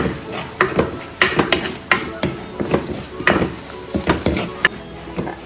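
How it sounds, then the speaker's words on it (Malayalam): Kashmiri chili powder sautés in a pan for mackerel curry, with a steady sizzle under regular scraping strokes of a spoon, about two per second, close and clear with no talk. "ഒരു ടീസ്പൂൺ കാശ്മീരി മുളക് പൊടി ഒരു ടീസ്പൂൺ മുളക് പൊടി ഇട്ട് അതൊന്ന് വഴറ്റി"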